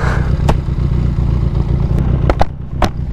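An enduro motorcycle engine drones steadily up close while riding, with a few sharp clacks and knocks from the bike or terrain breaking through near the end.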